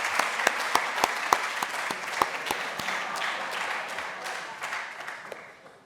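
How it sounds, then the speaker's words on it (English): An audience at a tourism venue awards event claps for the nominees, with dense applause and a few sharp individual claps that gradually taper off toward the end. "let's get a round of applause for all of them"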